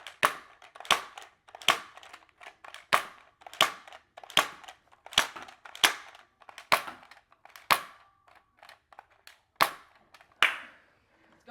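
Adventure Force Desperado toy blasters, one in each hand, fire at targets. About a dozen sharp, loud pops come at an uneven rhythm, each snapping cleanly out of near silence.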